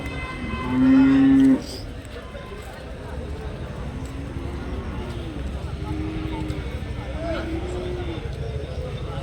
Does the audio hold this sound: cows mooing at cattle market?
yes